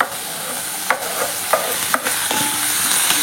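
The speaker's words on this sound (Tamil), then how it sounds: "வெங்காயம், தக்காளி, பூண்டு எல்லாம் கொஞ்சம் நல்லா வணங்கி வரட்டும்." Onion, tomato and garlic sautéing in a pan, with a steady soft sizzle broken by several sharp clacks and scrapes of a stirring spoon against the pan, close up and with no talk.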